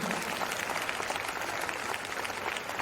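A crowd applauds steadily, dense clapping filling the room at an even level throughout.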